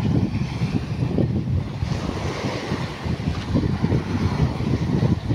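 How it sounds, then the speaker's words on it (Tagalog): Ocean surf at Capones Island in Zambales, a steady wash of waves breaking close by with strong wind buffeting the microphone throughout, and no voices. "Yung alon."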